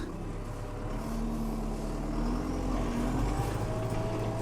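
A Renault Temis 550x tractor's engine drones steadily as it pulls forward, a loud, close, continuous rumble with a slowly rising tonal whine and no speech.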